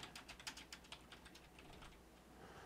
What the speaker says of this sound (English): let's type in a new item here